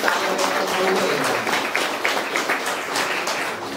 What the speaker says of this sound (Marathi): टाळ्या वाजून धन्यवाद देऊया का